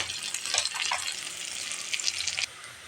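Garlic paste, onion paste and spices sizzle steadily in a pan for a Bengali fish dopiaza with bele fish, a dense bright hiss with a few stirring scrapes, then the sizzle drops suddenly softer near the end.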